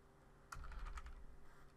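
Keystrokes on a computer keyboard while entering a VirtualBox disk resize command, a sudden burst of several quick clicks close up, then lighter tapping continuing without talk.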